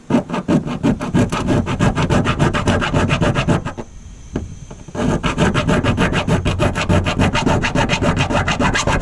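An 8-inch hand file widens a notch in quick, even back-and-forth rasping strokes, loud and close, with a short pause midway before the filing resumes.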